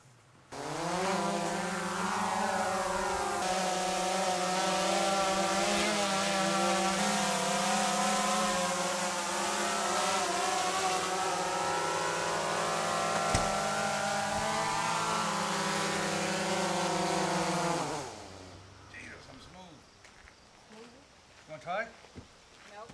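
A DJI Phantom 3 quadcopter drone fitted with snap-on removable prop guards flies nearby, its rotors giving a loud, steady high-pitched whine with shifting pitch for most of the stretch before cutting off, followed by a few faint knocks.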